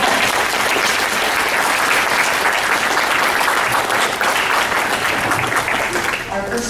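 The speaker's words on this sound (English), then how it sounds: "So let's give them a round of applause." Audience applause at a junior high spring concert for the concert band, a steady dense roar of clapping sustained throughout, close and loud, tapering slightly at the end.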